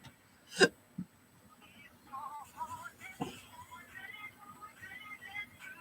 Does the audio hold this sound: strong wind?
no